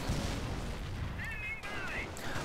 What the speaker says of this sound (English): We do have the mortar half-track is up here, diligently firing away.